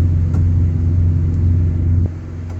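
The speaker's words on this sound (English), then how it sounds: "So I got the APU running" A truck's auxiliary power unit runs with a steady low engine rumble close by, holding constant before dropping slightly in level near the end.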